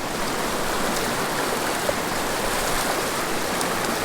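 Fast current of a creek rushes in a steady, broad hiss, constant and fairly loud with no breaks, no voices over it.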